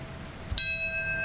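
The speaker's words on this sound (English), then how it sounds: "A single bell tolls as mourners gather in Shanksville, Pennsylvania" A single bell tolling at a September 11 memorial ceremony at the Flight 93 crash field in Shanksville, Pennsylvania, one clear strike ringing out with a long, sustained hum.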